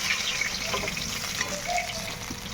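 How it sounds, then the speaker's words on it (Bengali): Steady, dense crackling sizzle of pabda fish frying in hot oil, close and continuous with small pops throughout. "আরও কিছুটা মাছ আছে, সেগুলো আমি ভেজে নেব।"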